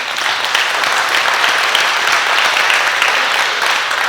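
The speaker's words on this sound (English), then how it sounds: "So once again, give our men a round of applause." An audience at an Urban League fatherhood program graduation gives a loud, even round of applause that holds steady from start to finish.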